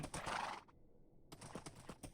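A Minecraft horse gives a short whinny at the start, then clip-clop hooves and game sounds carry on after a brief silent gap.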